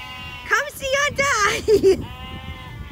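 Sheep bleat loudly and close by at a farm where baby cows are also kept, a few wavering cries in quick succession, with a person talking over them.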